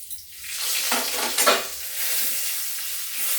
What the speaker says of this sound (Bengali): লবঙ্গ দারচিনি কাটিয়ে রেখেছিলাম ফোড়নে দেব একটা শুকনো লঙ্কা দেবো দুটো তেজপাতা দেবো